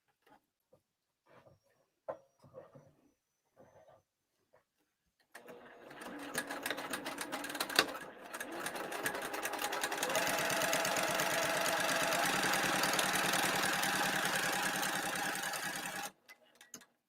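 A sewing machine runs a quarter-inch seam down the long raw edge of a bag lining at a stitch length of 3 to 3.5. A few light taps and handling sounds come first, then a steady, close mechanical whir continues unbroken for about eleven seconds before stopping.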